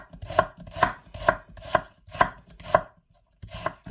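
A knife slicing an onion on a cutting board, seven sharp even chops in a steady rhythm, close and loud with no talk.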